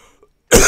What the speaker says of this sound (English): Who is coughing in the background?